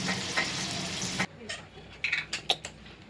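Chicken fry cooks in a pan on a low flame, giving a dense steady sizzle that cuts off abruptly, followed by a few scraping, clinking stirs of the utensil against the pan, close and without talk.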